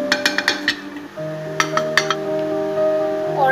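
Spoon or utensil clinking against a bowl while mixing chilli powder, salt, turmeric and cumin, a few quick metallic taps in bursts with a steady hum underneath, near and fairly clear.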